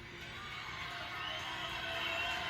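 A hometown crowd at a CMU vs WMU college volleyball match, heard as a steady, distant wash of applause and cheering that swells slightly toward the end, with no talk over it.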